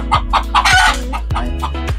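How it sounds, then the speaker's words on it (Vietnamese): Jungle fowl in a temporary pen on a bird-breeding farm, several close clucks in quick bursts with a crowing call in the middle, loud and near with no talk. "Còn bên này thì là gà rừng anh em ha, gà rừng"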